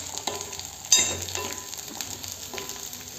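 Dry Bombay duck masala sautéing in a pan, a steady sizzle with sharp clinks and scrapes of a utensil against the pan.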